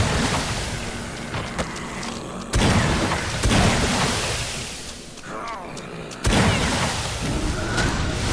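Enemies bursting into gore chunks in the shooter game Wrath: Aeon of Ruin, sudden loud wet blasts landing at irregular moments over a rumbling game backdrop.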